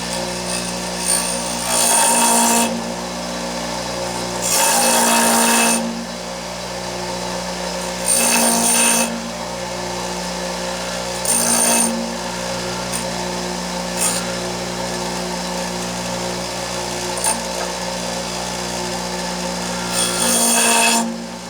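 Bench grinder wheel being dressed, a steady motor hum broken by repeated rough grinding scrapes of a few seconds each as the dresser passes back and forth across the spinning wheel, close and without talk.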